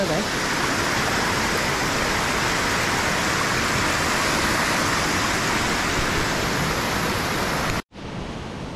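Water flows at normal, moderate force over a small V-shaped dam, giving a steady, loud, close rushing roar that drops out abruptly near the end and then resumes.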